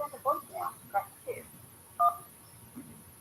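Telephone keypad tones beep in a quick irregular sequence of short, fairly faint presses, with a last tone after a pause and a quiet hum underneath.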